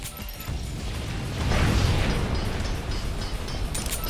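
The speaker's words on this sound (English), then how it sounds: "reloading" Mechanical clicks and clacks of a gun being reloaded in the video game Danganronpa Another Episode: Ultra Despair Girls, a few quick clunks over a steady wash of game background sound, with no talking.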